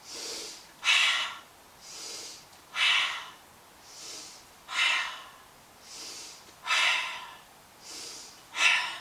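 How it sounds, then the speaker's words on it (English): Slow, steady breathing in through the nose and out through the mouth during a yoga session for anxiety and stress, close and clear, about ten soft breaths alternating in an even rhythm with no talk. "Breath in through the nose, exhale through the mouth."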